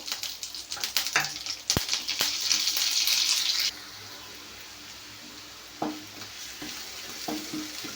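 Dried red chilies and curry leaves hit hot oil with loud crackling and spattering and some stirring knocks, then the sizzle drops to a quieter hiss with occasional scrapes.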